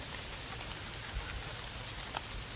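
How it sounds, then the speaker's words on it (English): Rain falls steadily and hard on a hunting blind, a constant close patter with occasional louder drops. "it's raining kind of hard"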